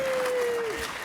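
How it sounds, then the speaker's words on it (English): A live audience breaks into applause in a large venue, a steady wash of clapping that holds throughout. A sustained tone rings faintly over it and then fades. "Applause for OSHA."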